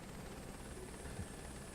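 Steady, even helicopter engine and rotor drone from Microsoft Flight Simulator 2024, a continuous moderate hum with a faint low thump near the end and no talking.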